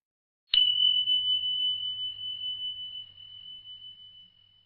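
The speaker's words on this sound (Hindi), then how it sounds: "घंटी की आवाज पूरे जंगल में गूंज उठी।" A magic bell struck once, giving a bright, sharp clang that rings on as a single sustained pure tone, slowly fading with a gentle pulsing shimmer over several seconds.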